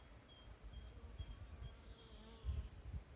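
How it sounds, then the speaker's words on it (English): Bees buzz faintly outdoors among flowers, a thin, steady hum with brief louder passes against a soft background wash and no talking. "Oh, there are some bees."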